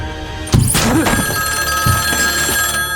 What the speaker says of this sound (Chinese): 当一旁的电话铃声响起时